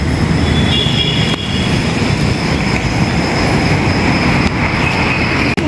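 A metro train at Mahatma Mandir station in Gandhinagar rumbles loudly and steadily throughout, with high wheel squeals and rail noise on top of a dense, continuous roar.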